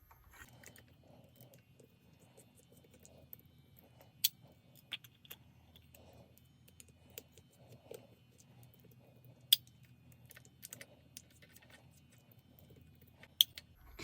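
Small screws being worked loose on the truck cover of a vintage Tyco Rock Island model locomotive, faint close-up clicks and scrapes scattered irregularly over a quiet background with occasional sharper ticks.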